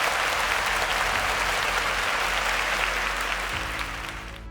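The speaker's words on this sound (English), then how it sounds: "A round of applause for Esther" Loud, sustained applause from a quiz show audience for contestant Esther, a dense wash of clapping that holds steady and then begins to thin and fade near the end.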